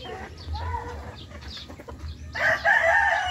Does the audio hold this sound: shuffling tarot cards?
no